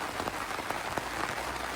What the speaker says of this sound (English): So it started raining really hard.